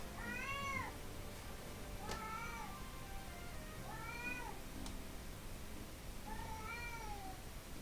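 A pet cat meows four times in a plaintive, drawn-out way, each cry spaced a second or two apart, fairly close and alone with no talking.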